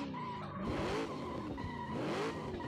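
Police car tires squealing in a video game, shrill skid tones sliding up and down over a steady engine roar, with two drawn-out squeals across a couple of seconds and no talking.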